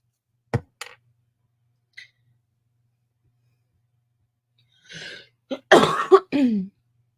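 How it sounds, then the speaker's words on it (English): A few short coughs and throat-clearing sounds, isolated at first, then a burst of harsher coughs close by near the end. "Guess I talk about coughing and then I cough."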